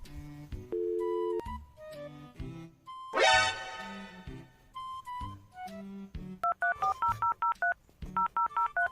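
Telephone keypad dialing tones: a rapid series of short electronic beeps of varying pitch, followed by a run of evenly spaced repeating tone pulses, clear and close with no talk.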